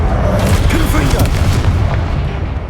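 Blasting-spell explosion in Hogwarts Legacy: a loud, deep boom that rumbles on continuously for a couple of seconds, with faint vocal fragments mixed into the din before fading slightly.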